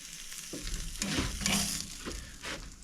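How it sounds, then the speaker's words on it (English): Lamb shoulder chop searing on a grill, a steady close sizzle with crackling swells and a few scraping movements, no voices. "We're going to do the same thing with that little bit that didn't get seared on the other side."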